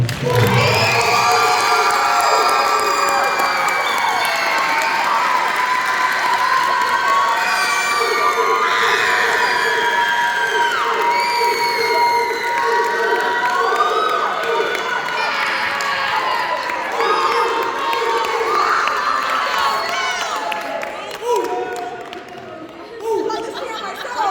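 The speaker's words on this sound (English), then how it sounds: "So please, round of applause." A crowd at a school band banquet cheers, whoops and shouts after a round of applause is called for, a loud, continuous swell of many voices with excited calls rising and falling near and far.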